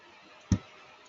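A single crisp computer mouse click, near and alone against quiet room tone.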